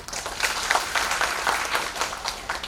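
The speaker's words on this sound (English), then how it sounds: "A big round of applause for them." A short burst of audience applause for panelists at a panel discussion on grassroots women's leadership, moderately loud, with dense clapping and slight pulsing.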